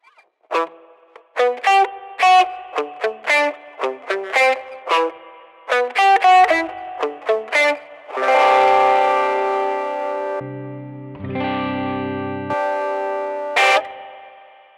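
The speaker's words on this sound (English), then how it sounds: "Then we've got a lo-fi reverb." Guitar played through the lo-fi reverb setting of a Boss RV-200 pedal: distinct plucked notes in a quick phrase, then held chords that swell with grainy, murky reverb tails and fade away.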